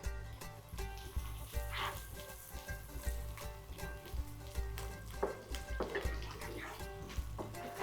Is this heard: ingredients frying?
yes